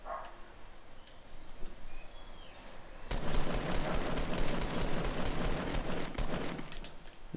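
Rapid automatic gunfire in the battle royale game Fortnite bursts in at about three seconds and keeps rattling loudly and densely to the end, over a quieter stretch of ambient game sound.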